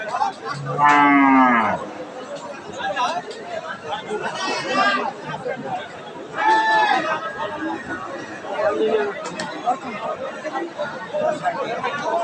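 Crossbred cows moo loudly several times, long drawn-out lowing amid a busy crowd murmuring and chattering at Aftabganj cattle market, Dinajpur.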